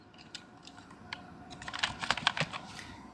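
Code being typed on a computer keyboard while building a Bootstrap navbar: quiet, irregular key clicks that start sparse and grow into a denser, louder burst of tapping toward the end.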